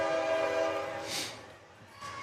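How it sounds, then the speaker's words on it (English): A train passes with its horn sounding steadily at moderate distance, a long tonal blast over rumbling cars, fading as it moves on, with a brief hiss later; no talking. "And we have our second train coming through."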